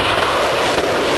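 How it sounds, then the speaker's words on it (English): A Concorde supersonic airliner on takeoff, a loud, dense, steady jet roar filling the whole short stretch with no break, heard alone. "That's the Concorde on takeoff."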